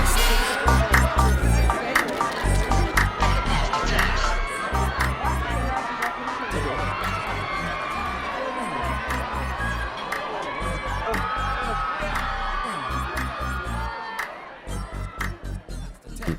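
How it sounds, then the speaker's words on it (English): A large crowd cheers and shouts at a film premiere, a dense, continuous roar of voices with whoops and scattered claps, loud and close throughout before dipping briefly near the end. "The crowd goes wild, but it's not clear for whom they're cheering, for father or son."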